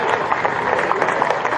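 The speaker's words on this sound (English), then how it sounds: "Can we please give our big round of applause for all our referees throughout the tournament?" A crowd applauds with dense, steady clapping for a brief moment, applause for referees at an African Australian football tournament.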